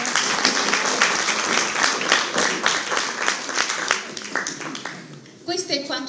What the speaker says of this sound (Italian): applauso, grazie